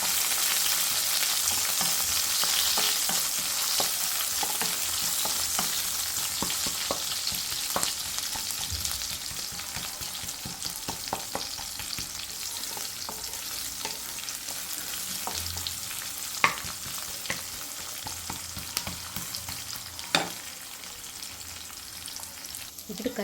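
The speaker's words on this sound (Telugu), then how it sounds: "ఇప్పుడు ఇవి ఒకసారి బాగా ఫ్రై చేసుకున్నాం" Chopped onions, mustard seeds and curry leaves fry in hot oil for a Telugu-style masala curry, giving a steady loud sizzle with occasional stirring clinks and pops throughout.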